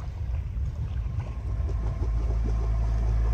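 Sailboat motoring along the coast near Knidos, Turkey, in almost no wind, giving a steady low engine drone with water wash on the hull, continuous and close with no speech.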